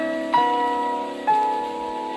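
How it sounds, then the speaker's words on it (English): An alarm tied to the Hiroshima bombing: two soft, struck, bell-like chime tones, each ringing and slowly decaying over a steady low hum, spaced about a second apart. "This alarm was played after the U.S. bombed Hiroshima."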